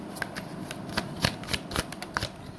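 Tarot cards shuffled during a reading, a run of quick crisp riffling flutters and soft slaps, close and fairly quiet, with no voice over them.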